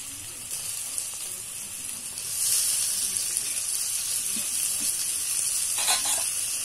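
Tomatoes tip into a hot pan and set off a steady, bright sizzle while soya chunk kofta curry is being cooked. The frying hiss grows louder after a couple of seconds and keeps going at a close, even level.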